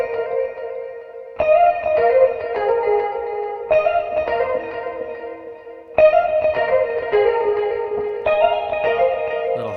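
Electric guitar played high on the neck through lush delay and reverb, bright ringing phrases that swell and repeat in echoing waves, loud and alone with no voices.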